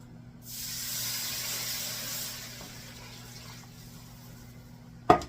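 Water poured from a container into a pan while making pantry sweet and sour chicken, a soft steady splashing hiss that fades out, ending with a sharp clank.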